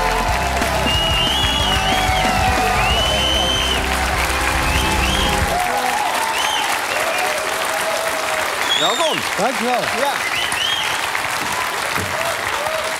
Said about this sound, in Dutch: Een hartelijk applaus van ons publiek.